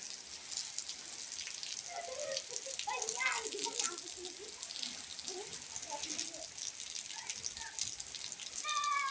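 Steady outdoor rain on an afternoon in a Bangladeshi village, a broad even hiss of falling drops with scattered patter, while children's voices and bird calls come and go faintly in the background.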